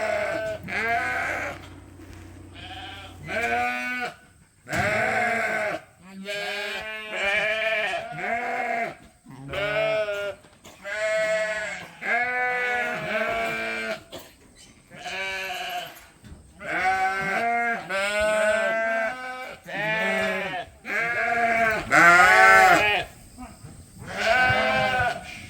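Suffolk ewe lambs being sorted for breeding bleat loudly and repeatedly, several animals calling over one another in near-continuous overlapping cries throughout.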